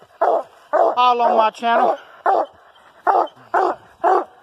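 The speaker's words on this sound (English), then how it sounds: "Everybody knows this old dog." A coon hunting dog barks repeatedly outdoors on a Texas mountainside, loud close barks in a steady rhythm, with a drawn-out bawling howl early on and a voice speaking briefly.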